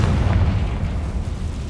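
Confringo spell blast in Hogwarts Legacy, a deep rumbling explosion boom sustaining low and heavy for under two seconds, loud and close.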